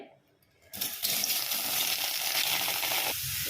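Cut tomatoes hit hot oil in a pan: after a moment of near silence comes a sudden loud sizzle that holds steady and close for the rest of the moment.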